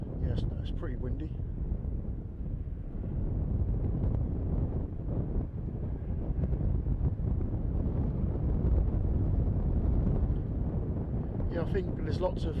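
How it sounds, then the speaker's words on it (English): Strong gusts buffet the microphone outdoors, making a constant heavy low rumble and roar for the whole stretch, with faint voices surfacing briefly near the start and end. "yes, it's pretty windy."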